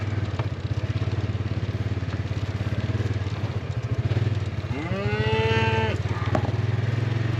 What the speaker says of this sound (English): Here, cows, here!